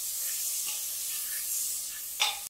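Tomatoes with salt frying in a pan, giving a steady, soft sizzle and hiss with a brief louder spitting burst near the end, no voices.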